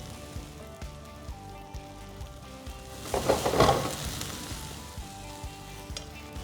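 Chili paste and finely chopped celery sauté in a pan over a medium flame, giving a steady close sizzle with soft stirring knocks and a louder burst of frying in the middle.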